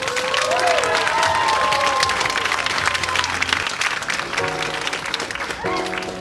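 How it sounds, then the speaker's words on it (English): Loud, steady applause and crowd noise fill the air for a newly married couple, with cheering and overlapping voices and some musical tones rising near the end. "We get a huge round of applause that we made it."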